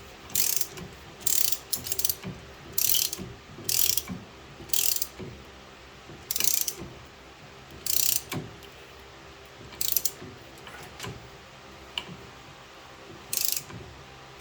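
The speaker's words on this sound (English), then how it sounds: "I got the first one in with the 1/2-inch drive ratchet." Half-inch drive ratchet tightening a 7/16 nut onto a stud of a 1974 Pontiac 455 Trans Am, heard as repeated bursts of crisp pawl clicking, roughly a dozen short runs spaced a second or so apart, close and clear with no talking.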